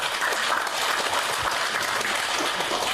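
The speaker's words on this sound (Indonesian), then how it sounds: "Tepuk tangan." A crowd at an installation ceremony claps together in a steady, dense round of applause, even and sustained throughout, with no talking over it.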